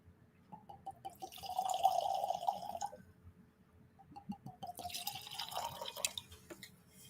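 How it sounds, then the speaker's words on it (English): Weller 12 wheated bourbon poured from a freshly opened bottle into a glass, heard as two separate bursts of trickling, glugging liquid, each lasting a couple of seconds, close up and with no talking. "That's a healthy pour."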